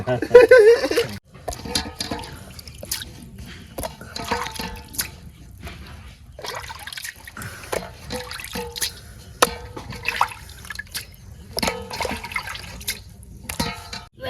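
Water drips and splashes as cut shrimp and fish are washed by hand in a home kitchen, with irregular trickles and soft clatter continuing throughout at close range.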